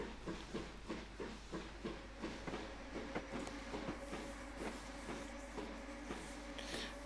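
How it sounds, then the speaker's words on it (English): A passenger train passes in a train simulator game on the Western Lines of Scotland, with a steady rhythmic clickety-clack of wheels over rail joints beneath a constant low rumble and hiss, fairly faint and with no talk. "Well, there's the passenger train."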